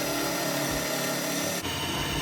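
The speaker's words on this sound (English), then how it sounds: "I'm going to go ahead and drill that." Steady, loud mechanical whine of a power drill running continuously, briefly changing pitch near the end, with no voices.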